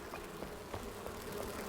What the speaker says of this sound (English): I think we're gonna have to go and deal with those buzzy bees